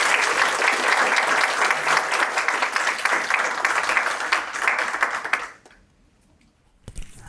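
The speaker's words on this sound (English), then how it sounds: "I'd like one other round of applause for Lori and Captain." A townhall audience gives a sustained round of applause, dense clapping filling the room for about five seconds before fading out abruptly into near quiet with a faint thump at the end.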